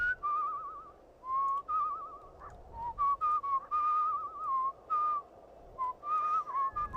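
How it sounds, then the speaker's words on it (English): A character whistles a wavering, melodic tune while strolling through New York in Where the Water Tastes Like Wine, clear and close, in short phrases broken by brief pauses. "Let's see if we can whistle while we stroll."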